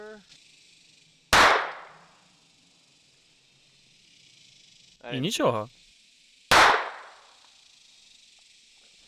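Two sharp snapping shots from a toy pen pistol, several seconds apart, with a short spoken remark between them.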